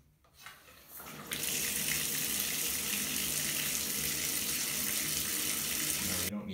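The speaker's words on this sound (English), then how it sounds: "Now we need to fill the bathtub with a few inches of lukewarm water." A bathtub tap opens and lukewarm water pours steadily into the tub, a loud, continuous close gush that starts after a brief fumble and cuts off abruptly at the end.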